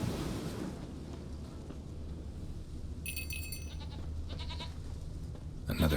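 A goat bleats in the video game The Witcher 3 with a few brief wavering calls, faint and somewhat distant, heard over a low, steady ambient rumble like surf.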